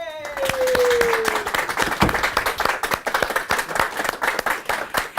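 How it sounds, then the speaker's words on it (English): Steady applause from a crowd, dense clapping that carries on throughout, with a voice heard briefly at the start. "please give a big round of applause for Sian Chuckey."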